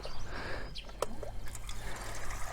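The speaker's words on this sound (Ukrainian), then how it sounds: "Водичка тече зразу." Tap water running from a faucet in a summer kitchen of a village house, a close trickling and splashing stream with a sharp clack partway through.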